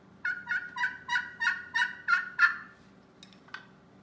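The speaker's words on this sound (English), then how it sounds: "This is a aluminum call, a lot higher pitched." An aluminum friction turkey call, high-pitched and played for turkey season, gives a quick run of about seven bright yelps. Each yelp is loud and close. Two faint scratchy clucks follow after a short pause.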